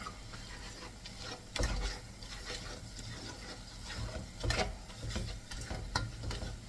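A rice and choy sum mixture is stirred in a frying pan with a quiet, steady sizzle, broken by a few sharp scrapes and knocks of the utensil against the pan.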